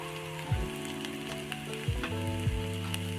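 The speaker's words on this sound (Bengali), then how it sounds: "মিডিয়াম আপনারা এরকম করে ভেজে নেবেন। ধনেপাতা দিচ্ছি, নেক্সট লবণ।" A potato paratha filling with mashed chili, coriander leaves and salt fries in a pan with a steady sizzle, broken by a few soft stirring scrapes, close and moderately loud, with no talking.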